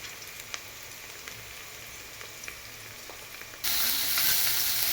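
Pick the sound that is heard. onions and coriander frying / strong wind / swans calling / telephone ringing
onions and coriander frying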